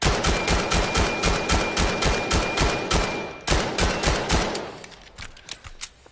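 Rapid automatic gunfire from a video game fires in quick, evenly spaced bursts. The shots are loud and close, with a short break before firing resumes and trails off.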